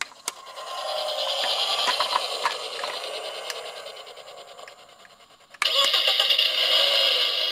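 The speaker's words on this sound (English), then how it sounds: "Those are some cool engine noises." Electronic engine effects from a Paw Patrol Tracker's Jungle Rescue pull-back toy vehicle: a revving, whirring motor sound with clicks, a brief dip, then a louder, brighter burst of engine noise at the end.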